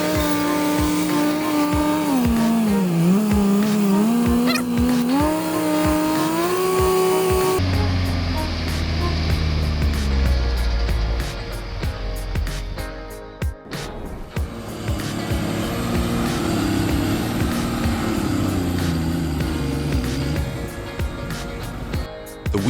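A New Holland tracked tractor with a 450-horsepower FPT Cursor 13 engine and wide rubber tracks strains while stuck in swampy mud, its engine droning and rising in pitch, then giving way to heavy rumbling and churning noise, loud and continuous.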